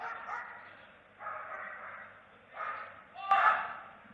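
A police dog guarding a bag on command gives three or four sharp barks at close range, spaced about a second apart, the last one loudest.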